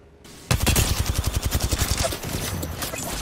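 Rapid automatic gunfire in the Apex Legends video game bursts in after a brief quiet start, a loud, fast string of evenly spaced shots running on for over a second before settling into a denser clatter of battle noise.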